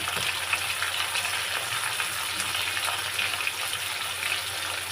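Shrimp frying in a pan with turmeric gives a loud, continuous sizzle with a dense hiss and light crackles, steady throughout and with no voices.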